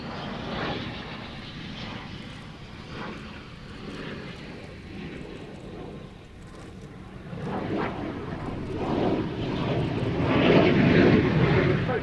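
A jet aircraft flies a slow-speed, high angle of attack display at the Royal International Air Tattoo, its engine roar a steady broad rumble that swells louder toward the end.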